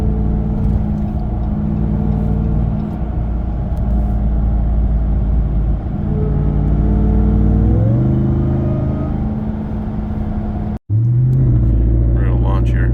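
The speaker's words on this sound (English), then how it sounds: "just barely on the gas and it just whines like crazy now." A Ram TRX engine fitted with a K&N full cold-air intake rumbles steadily under light throttle, with a rising intake whine as it revs and a brief dropout near the end.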